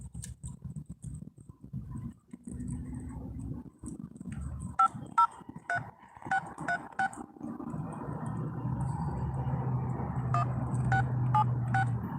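A telephone keypad dials a call to the Oregon Autism Society, a series of short, sharp tone beeps in irregular clusters, some singly and some in quick runs, over a low background hum and faint handling noise.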